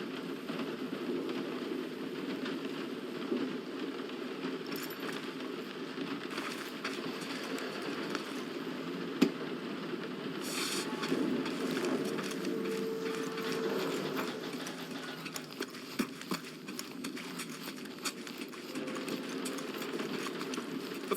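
Steady rain falling in a Guardians of the Galaxy video game scene, a constant broadband hiss with occasional brief clicks and a low rumble underneath, no talking.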